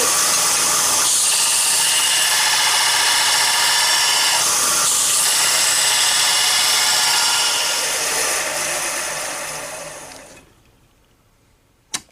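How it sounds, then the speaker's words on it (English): A bench grinder grinds a steel blade blank, giving a loud, steady high-pitched whine with rasping contact for about ten seconds, then spinning down and fading, followed by a single sharp click. "That's about as close as I want to get on this grinder"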